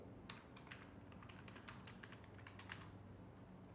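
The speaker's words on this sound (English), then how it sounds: "So I'm going to enter my name." Quiet, quick keystrokes on a computer keyboard as a name is typed into a website sign-up form, a short burst of light clicks with no talking.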